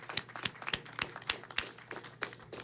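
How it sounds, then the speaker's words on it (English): A city council meeting audience gives a brief round of applause, a faint, dense patter of scattered claps heard from a distance with no speech over it. "Let's give them a round of applause."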